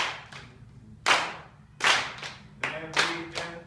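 Children's clapping game: sharp hand claps come one at a time in a loose rhythm, close and crisp, with softer taps and body sounds between them.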